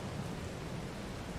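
Steady rain in the Farming Simulator 22 video game, a dense, even hiss of falling water that holds constant and fills the background alone, with no voices over it.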